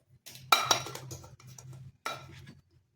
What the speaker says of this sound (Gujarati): હવે આને સારી રીતે મિક્સ કરતું રહેવાનું છે